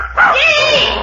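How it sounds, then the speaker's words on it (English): A small puppy whimpers and yips in short, high, nasal cries close by indoors, continuous through the moment, in an old-time radio comedy scene, with no talk over it. "Just my nephew's puppy."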